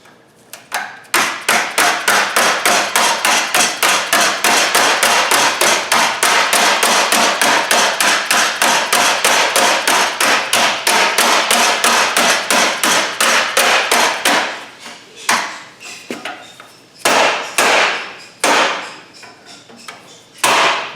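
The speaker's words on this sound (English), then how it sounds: "Take this hammer, start pounding that over the edge there." A hammer pounds sheet metal over an edge while a cab brow is shaped for a Studebaker M5 truck, with rapid steady ringing blows for about fifteen seconds before they slow into spaced strikes.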